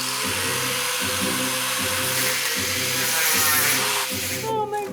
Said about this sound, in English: Do you want to angle grind it off?